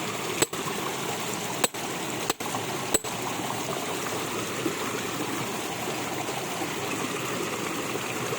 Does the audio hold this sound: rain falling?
yes